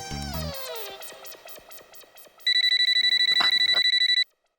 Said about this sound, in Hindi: ऐसे घूमते रहने से थोड़ा फोन बजेगा।